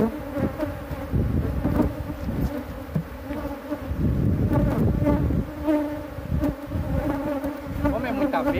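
A large swarm of honeybees buzzes loudly and continuously during a rural hive capture and transfer of big combs, a dense droning hum that stays close throughout, with faint voices underneath.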